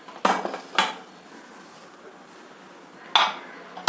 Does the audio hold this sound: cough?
no